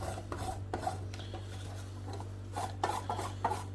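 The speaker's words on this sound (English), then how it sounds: "I'm just going to grate it and put it on top. Let me just grate this quickly." A Dairy Milk chocolate bar being grated by hand over a cheesecake, heard as close, rhythmic raspy scraping strokes over a steady low hum, with no talking.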